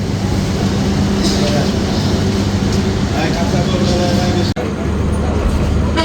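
Night ambience at Natore railway station in Bangladesh: a continuous, loud rumble of rail and station noise with a steady low hum, broken by a brief sharp dropout near the end, and voices mixed in.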